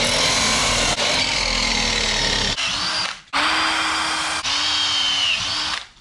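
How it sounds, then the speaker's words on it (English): A power tool whines steadily as it cuts small pieces of aluminium for a homemade 12-volt fuse holder, loud and close, with two brief pauses between cuts. "Now on the side, I will cut a couple of bits of aluminium."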